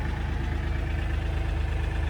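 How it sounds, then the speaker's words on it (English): A tractor engine idles steadily, its low, even chugging pulse holding constant and fairly close throughout, with no voices over it. "Just another use for the tractor."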